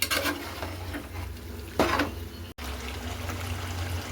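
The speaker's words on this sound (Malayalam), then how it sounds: "ഇനി വന്നിട്ട് ബീഫ് ഇടാൻ പോവുകയാണ്. ബീഫ് ഇട്ടതിന് ശേഷം നല്ലതായിട്ട് മിക്സ് ചെയ്യുക." Beef tipped into fried masala in a pan for a Kerala beef fry and mixed through: a steady wet stirring and sloshing close up, with one louder moist splat midway and a brief cut in the sound.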